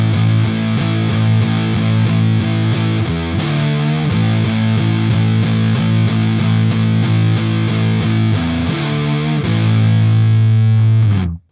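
Fuzz-distorted electric guitar bending two notes together by a quarter step, a thick sustained repeating riff with small upward pitch bends, loud and continuous until a sudden stop.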